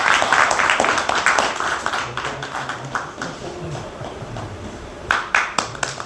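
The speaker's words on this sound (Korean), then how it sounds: "박수" An audience at a book concert claps, starting with a dense burst of applause that thins into scattered claps, then swells again briefly near the end.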